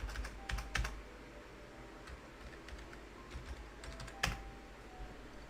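Someone types a search into a computer keyboard, producing quiet, close key clicks in short irregular bursts over a low room hum.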